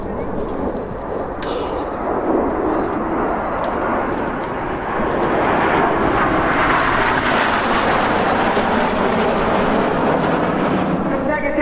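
Red Arrows display jets roaring past at RIAT 2024, a loud, broad jet rush that swells and holds over several seconds, with commentary talk over it.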